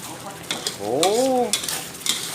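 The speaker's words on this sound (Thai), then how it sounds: "เคี่ยวหัวกะทิกับพริกแกงให้เข้มข้นให้แตกมันเลยนะครับ" Coconut cream and red curry paste for a Thai tilapia curry simmer and get stirred in a hot pot, with soft scraping and sizzling plus one brief wavering vocal tone in the middle.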